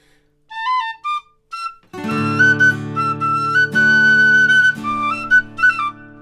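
A tin whistle plays a melody at a live music stream, a few short bright notes at first, then sustained lines over a backing chord accompaniment, with no voices.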